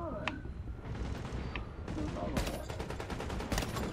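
Gunfire aimed at an enemy tank in Tom Clancy's The Division, bursts of rapid shots in quick succession with some sharp pings, moderately loud, broken by brief gaps and mixed with game noise.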